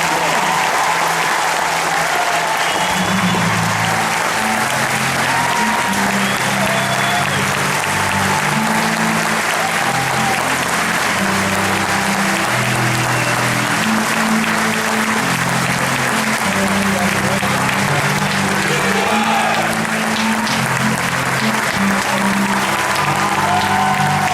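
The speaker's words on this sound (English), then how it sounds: "Ladies and gentlemen, please join us in a round of applause for the United States Army Infantry Rifle Squad." Sustained audience applause at an outdoor US Army infantry graduation ceremony on a parade field, steady dense clapping from a large crowd lasting throughout with no talk over it.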